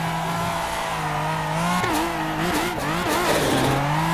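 A turbocharged car engine in the Assetto Corsa racing game revs hard and continuously, its pitch rising and dropping through several throttle blips, loud and close with no talking.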